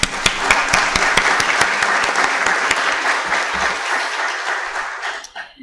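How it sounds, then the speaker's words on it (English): Sustained applause from a conference audience honoring awardees, dense steady clapping with a few sharper claps standing out, fading near the end. "So a round of applause to the awardees,"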